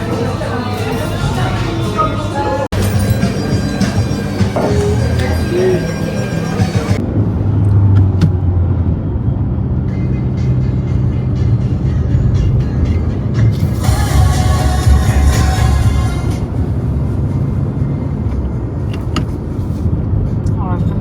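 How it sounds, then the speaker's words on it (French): A new car on a test drive toward Tervuren park gives a steady interior road rumble and engine drone, with a person talking over it throughout. "Petit stop dans ma conduite pour mon test de la voiture"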